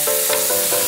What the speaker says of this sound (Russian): В принципе, куриное бедро жарится очень быстро.